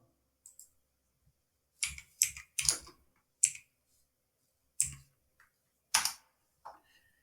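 Keys clicked on a computer keyboard while typing a Google search, coming in short bursts of separate taps with gaps between them, close and fairly quiet, with no voices.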